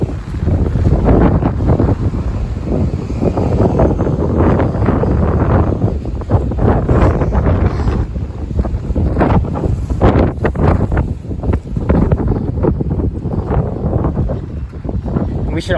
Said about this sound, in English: I hope you guys can hear me over that wind.